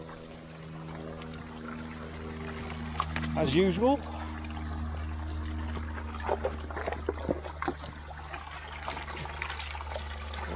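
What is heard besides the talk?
stream water trickling on Beeley Moor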